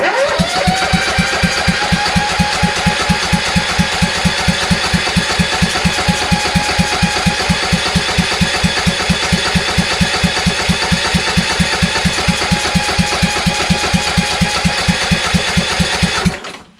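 Kohler Courage engine on a Toro LX460 lawn tractor runs with no muffler, a loud, raw, rapid steady pulsing bark held close for over fifteen seconds before cutting out abruptly.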